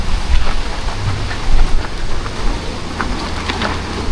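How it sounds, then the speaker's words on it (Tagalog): Heavy rain pouring steadily in Leyte, a dense continuous hiss of drops with low rumbling underneath, loud and close with no voices over it. "ulan."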